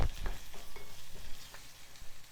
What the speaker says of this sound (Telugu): అల్లం వెల్లుల్లి పచ్చి వాసన పోయే వరకు వేయించుకోవాలి